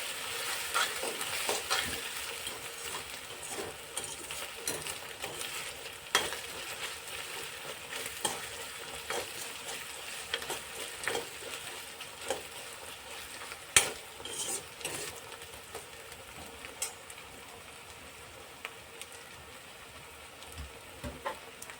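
Vegetable pulav ingredients fry in oil with a steady, dense sizzle, broken by frequent stirring scrapes and the odd utensil clink against the pot, continuous and close throughout.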